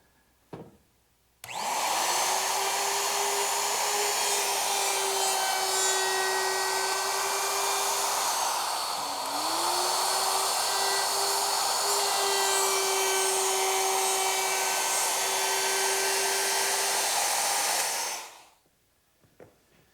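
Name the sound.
router with 1/4-inch round-over bit rounding wood corners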